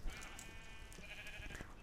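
Minecraft sheep bleating in the video game, a faint, wavering harmonic bleat that runs through most of the short stretch over a low game background, with no talking.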